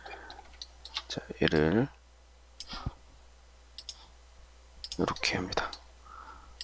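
Computer mouse clicks come in a few scattered sharp ticks while modelling in Rhino software, close and crisp, interleaved with someone speaking Korean in a quiet room.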